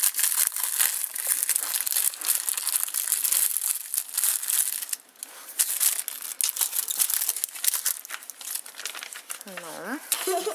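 A plastic packet from a children's Fancy Candy cookie-modelling kit is unwrapped, giving loud, continuous crinkling and crumpling close to the mic, with a brief dip midway and a voice cutting in near the end.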